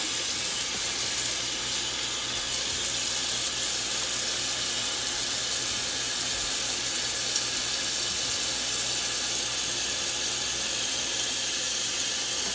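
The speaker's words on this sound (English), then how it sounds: "You have to fill up the water all the way up." Tap water running steadily into a container to wash vegetables, a continuous hissing splash that stays even and close for the whole stretch, with no talking.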